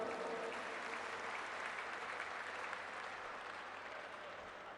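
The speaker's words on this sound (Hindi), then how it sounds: "महाराष्ट्र के साथियों के लिए जोरदार तालियां।" Sustained applause from the audience at a national conference of elected representatives, a dense, steady wash of many hands clapping at even loudness throughout, with no pauses or voices standing out.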